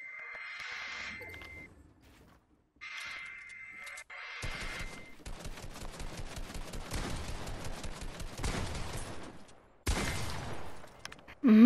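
Rapid gunfire in the video game Fortnite, a dense burst of sharp repeated shots lasting several seconds, preceded by a couple of short synthetic tones and followed by a louder final crack.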